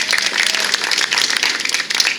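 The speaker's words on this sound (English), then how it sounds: "could you please give them all a round of applause?" Brief burst of dense applause from an audience at a West Seattle Bridge anniversary panel discussion, steady and fairly loud throughout.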